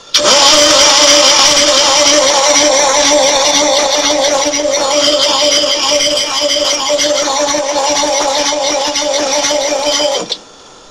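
A seized Mercedes engine is cranked hard and catches, running loud and rough with a steady mechanical drone for about ten seconds before cutting off abruptly.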